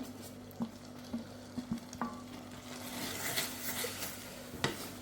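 Vegetables are mixed into a simmering pasta sauce in a pan, with soft stirring scrapes and light taps against a low hum, quiet and close, building into a gentle bubbling fry toward the end.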